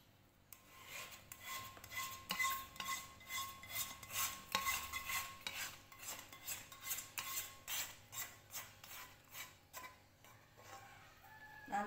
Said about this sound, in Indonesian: Lalu kocok kembali sampai benar-benar tercampur dengan rata